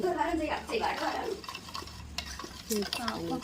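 Semolina cake batter with oil, powdered sugar and milk being stirred in a bowl, giving repeated close scraping and swishing strokes with small clinks against the bowl.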